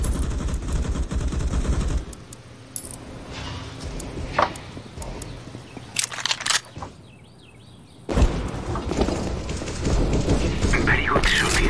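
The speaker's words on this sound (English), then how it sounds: "Very good shooting." Gunfire from the game CS:GO comes as sharp, loud bursts of shots, scattered and uneven, over steady in-game background noise with a short near-silent gap in the middle.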